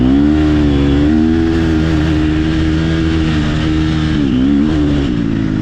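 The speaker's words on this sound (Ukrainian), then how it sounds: "У мене буксують колеса, пацани." An enduro motorcycle engine drones loud and constant as its wheels spin in snow on a winter ride, pitch wavering slightly with a brief rev dip near the end, heard close and alone.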